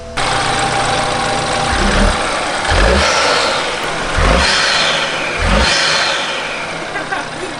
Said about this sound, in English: Turbo, bro. You hear the turbos?